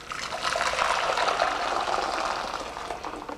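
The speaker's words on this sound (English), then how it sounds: "So I have boiled water in my kettle" Boiled water pours from a kettle in a steady, continuous splashing stream, close and fairly loud, with no talking over it.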